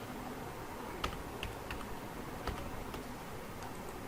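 Quiet keystrokes on a computer keyboard, a few sparse clicks spread over a few seconds against a soft background hiss.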